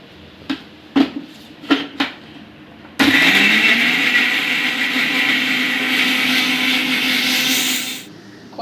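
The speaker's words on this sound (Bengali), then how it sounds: "এখন আমি মিক্সারে বেটে নেব" A few short clatters and taps, then a mixer grinder grinding spices whirs loudly and steadily for about five seconds before stopping abruptly.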